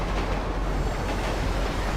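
Moving train in the GTA 5 video game, a steady dense rumbling roar of rolling wagons, loud and continuous throughout with no voices over it.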